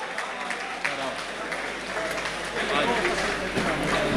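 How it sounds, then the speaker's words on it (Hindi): Audience applause at a mushaira poetry gathering in Jhang, a broad steady wash of clapping that swells slightly toward the end, with a voice speaking over it. "आपकी भरपूर तालियों में"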